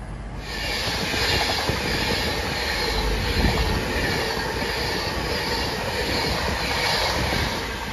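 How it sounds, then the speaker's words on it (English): A CrossCountry passenger train from Bournemouth to Manchester Piccadilly runs past on the West Coast Main Line, a loud steady rumble and rush of wheels on rails with faint squealing, holding close and even throughout with no talk. "there goes the cross-country service to Manchester Piccadilly from Bournemouth"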